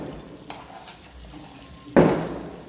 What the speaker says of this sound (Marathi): 5 मिनटं इकडनं पण ते तळू देऊ दुसऱ्या साईडने.